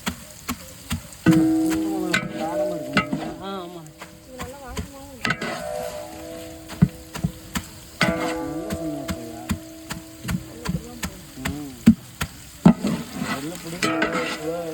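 Dried red chillies and curry leaves crackle and sizzle in a pan for an anchovy dish, with frequent sharp clicks and scrapes of a ladle stirring, while a voice speaks on and off over the frying.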